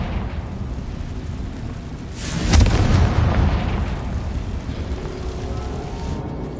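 A Confringo spell explosion in the Hogwarts Legacy video game: a single loud, booming blast bursts partway through, then a rumbling wash of debris slowly fades away.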